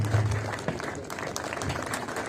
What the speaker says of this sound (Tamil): அனைவரும் கைத்தட்டி உற்சாகப்படுத்தும்படி கேட்டுக்கொள்கிறோம்.